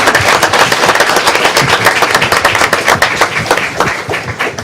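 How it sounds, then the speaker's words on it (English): An audience at a city board of commissioners meeting claps loudly and steadily for several seconds, dense overlapping hand claps with no talking over them. "This is where you clap."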